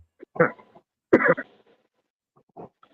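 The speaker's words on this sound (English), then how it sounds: "Coughing up a storm as always." A few rough, throaty coughs or throat clears come in short bursts separated by quiet pauses, close to the microphone.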